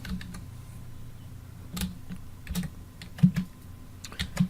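Computer keyboard keys tapped while entering a formula in an Excel spreadsheet: scattered, uneven clicks and short bursts of keystrokes over a steady low background hum, close by and alone.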